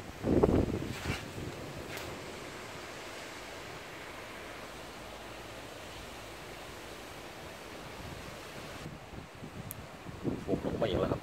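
Strong wind blows steadily as a broad, even rushing noise with buffeting at the start and end, heard outdoors without any speech.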